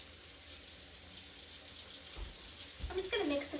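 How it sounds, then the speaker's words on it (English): Hot water running from a kitchen tap while hands are washed, a steady close hiss of flowing water that grows busier near the end with splashing and brief clattering. "I'm gonna get my hot water running though, so I'm gonna wash my hands."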